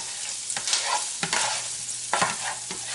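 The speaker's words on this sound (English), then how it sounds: "Give it a stir." Kale with garlic and thyme sizzles in hot oil in a pan as it is stirred, with a steady frying hiss broken by a few sharp scrapes and clatters of the utensil, close and fairly loud.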